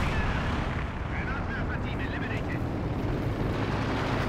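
Howitzer shelling booms across a Company of Heroes 2 battlefield as a mortar is destroyed, a dense rumbling barrage heard under steady commentary.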